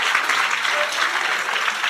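Sustained applause from a congregation at a sermon fills the space, an even, continuous patter of many hands clapping at moderate loudness.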